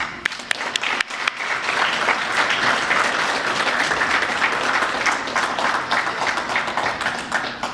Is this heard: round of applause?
yes